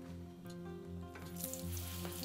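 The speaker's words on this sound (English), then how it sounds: "When you hear it sizzling like that." Aubergine slices fry in hot oil with a soft, steady sizzle and faint crackling, heard at low volume with no talking.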